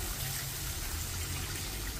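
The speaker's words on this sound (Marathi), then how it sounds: "आता आपण याच्यात पाणी ऍड करायचं" Water is poured into a pan of turmeric fried in oil while making spicy Maharashtrian vermicelli upma, a steady close splashing gush lasting a couple of seconds.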